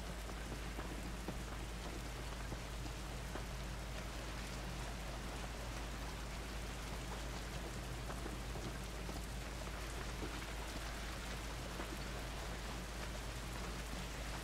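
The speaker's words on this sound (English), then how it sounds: "This rain ain't gonna do us any good." Steady rain falls outdoors in the video game The Last of Us, a dense, even hiss of drops on surfaces with a low rumble underneath, continuous throughout with no talking.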